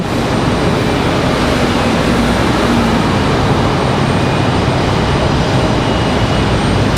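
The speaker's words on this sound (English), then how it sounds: "There's our ATR." ATR turboprop airliner at Raleigh-Durham International Airport, a loud, steady broadband roar with a faint high whine, constant for several seconds.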